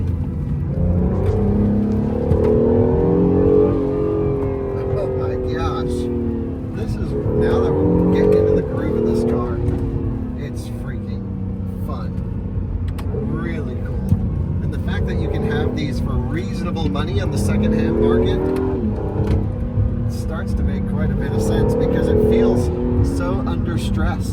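An Acura NSX drives along a road with a steady, loud engine drone that rises and falls gently with cruising revs, while someone talks over it throughout.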